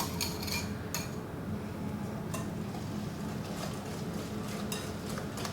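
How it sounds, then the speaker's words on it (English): A whisk works peaches into cake batter in a bowl, with repeated light clinks and scrapes against the side at an uneven rhythm, close and fairly quiet. "Now we are gonna whisk in our peaches."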